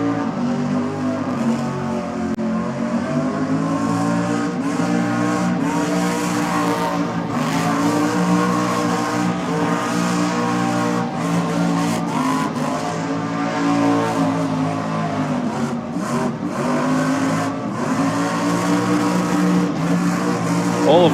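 Race cars run at wide open throttle at Sydney Dragway, a loud sustained engine roar with shifting harmonic tones and pitch swells, continuous and close throughout.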